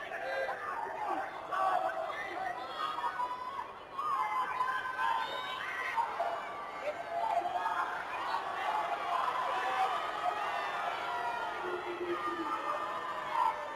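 Fans cheering and shouting at a high school state wrestling championship match, a busy crowd roar with whoops and chatter, rising and falling across the stretch under a voice talking over it.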